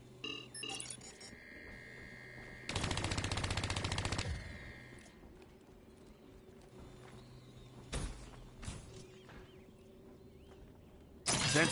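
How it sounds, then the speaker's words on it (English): A sentry gun opening fire in a video game: two short bursts of rapid automatic gunfire plus a few sharp single shots, mixed with mechanical clicks and faint electronic tones, with quiet gaps between. "Sentry opening fire."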